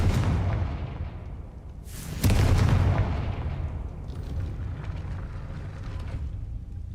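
The Confringo fire spell from the Hogwarts Legacy video game lands as a sudden, loud booming blast. A rumbling, crackling tail follows and fades slowly over several seconds.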